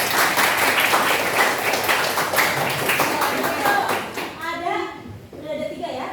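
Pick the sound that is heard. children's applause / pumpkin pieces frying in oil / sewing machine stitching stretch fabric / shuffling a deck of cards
children's applause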